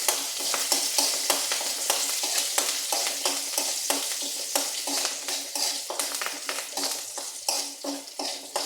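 Ginger, garlic and curry leaves frying in a pan while being stirred briskly, with a loud close sizzle broken by quick rhythmic scraping strokes throughout.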